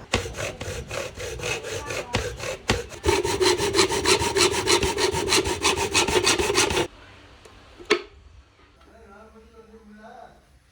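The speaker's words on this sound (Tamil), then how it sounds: "இந்த பிவிசி பைப்பை கட் பண்ணணும்" PVC pipe is sawn in two for a speaker build, with fast, rhythmic rasping strokes close up for about seven seconds. The cutting stops, a single knock follows, then quieter handling sounds with voices in the background.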